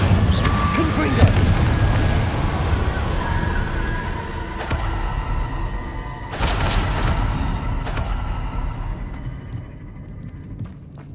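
Blasting-spell explosions in Hogwarts Legacy: several booming blasts land at irregular intervals over a continuous rumble of game sound, the last ones fading toward quiet.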